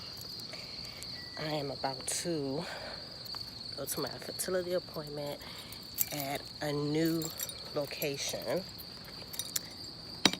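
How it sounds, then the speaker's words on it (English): Steady high-pitched cricket chirping runs throughout, a constant insect trill under a person speaking in the foreground. "the crickets in the background hating on my video."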